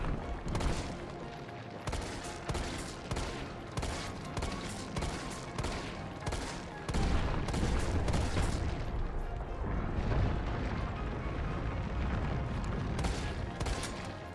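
Gunfire in the video game Resident Evil 3: rapid, sustained bursts of shots in quick succession, loud and dense, with heavier booming fire in the second half and no pauses long enough for quiet.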